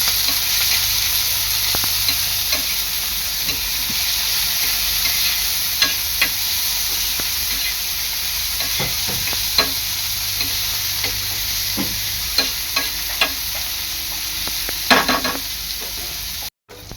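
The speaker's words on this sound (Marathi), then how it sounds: "कांदा आहे ना आपला चांगला लाल होईपर्यंत तेलावर शिजवून घ्यायचा आहे" Onion fries in oil until browned for a dry Bombay duck dish, a steady sizzle throughout with intermittent scraping and stirring taps from a spatula.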